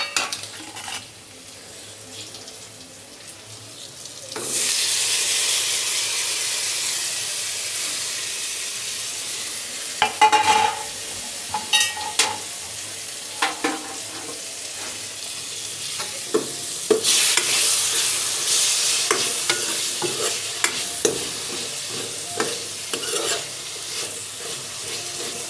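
Vegetables being stirred and fried in a pan on low heat give a steady sizzle, with a utensil scraping and clinking against the pan throughout. No one speaks.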